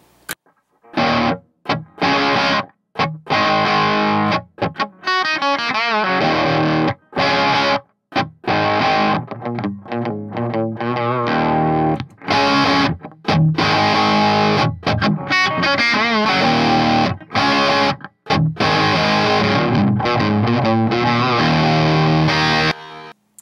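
Heavily distorted electric guitar riffs through a modded Epiphone Valve Junior tube amp, played loud and close, with chugging chords, brief stops between phrases and a thick, saturated tone.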